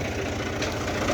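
An old Al Buraq 480 tractor idles close by, its engine giving a steady low rumble with a faint knocking texture throughout, no voices over it.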